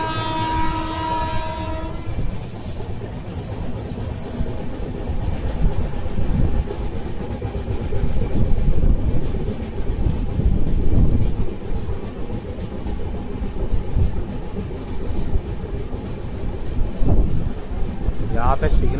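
The Arunachal AC SF Express runs through New Barauni station with a horn blast at the start, then steady rumbling and clattering wheels on the rails. Voices and station noise are heard underneath.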